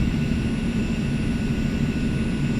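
In the X-Plane 11 flight simulator, the twin jet engines of an Eclipse 550 give a steady low roar with a faint whine on top as the throttles are pulled back, with no voices.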